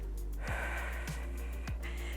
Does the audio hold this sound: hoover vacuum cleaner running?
no